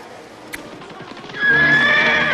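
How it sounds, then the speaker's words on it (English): A horse whinnies loudly and close by, a high shrill neigh after a moment of soft hoof clopping. "riding on a horse and leading 2 horses"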